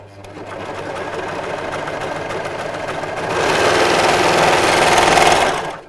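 Sewing machine stitching fabric toward a corner, a steady close whirring hum that grows louder and faster partway through before stopping.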